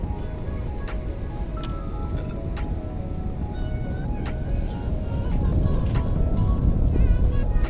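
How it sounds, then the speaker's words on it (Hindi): A boat pulls up to a dock in Mauritius, its steady low engine rumble swelling and growing louder toward the end, with faint voices in the background. "कुछ देर में ही ये बोट आ गया।"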